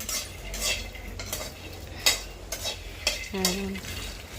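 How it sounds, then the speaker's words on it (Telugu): Makhana (fox nuts) fry in a pan while a utensil stirs them, giving a soft sizzle broken by repeated scraping and clinking strokes against the metal. "కొన్ని కొన్ని వేసి వేయించుకోవాలి మొత్తం ఒకసారి కాకుండా"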